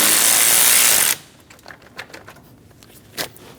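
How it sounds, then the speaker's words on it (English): A 10mm socket ratchet works on the positive battery terminal of a Scion xB, with quick soft clicking and ratcheting in short bursts, following a loud steady whirring noise at the start. "Using a 10mm socket, loosen the positive terminal on the battery."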